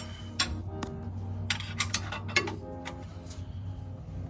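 A 40mm ring spanner works a fitting loose on a 2015 76 series Toyota Landcruiser, giving a few quiet metallic clicks and ratcheting ticks against low workshop hum.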